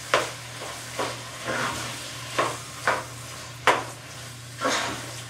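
Squash being mixed in a pan, a soft steady sizzle broken by about eight distinct scrapes and clacks of a utensil against the pan at irregular intervals, close and moderately loud, with no talking.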